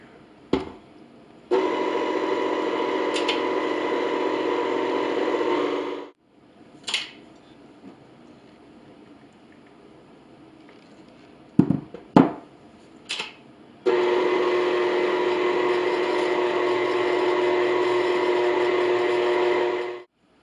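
A mixer whirs through pie bar batter of flour, cinnamon and salt in two long steady bursts, with a few clinks and knocks in the quiet gap between.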